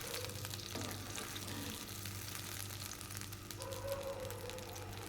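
Curry gravy with tomato sizzling steadily in a pan while it is cooked down, with small potatoes and taro in the dish; a continuous close frying hiss with occasional stirring scrapes and a low background hum.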